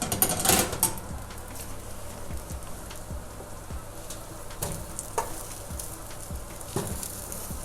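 A slice of sweet potato sizzles in a hot pan, a steady soft crackle with faint scattered pops and a few brief clinks of handling, fairly quiet throughout.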